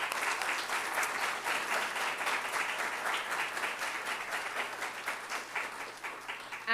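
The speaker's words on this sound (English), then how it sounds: "So everyone, give a round of applause." A crowd at a student government inauguration and awards ceremony breaks into sustained applause, a dense steady wash of many hands clapping for several seconds that thins slightly toward the end.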